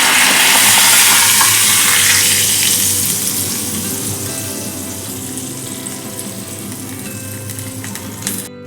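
Curry leaves hit hot oil in a kadhai with a loud, bright sizzle that bursts up at once and slowly fades into a steadier frying hiss, close by and without talking.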